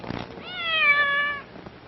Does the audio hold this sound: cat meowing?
yes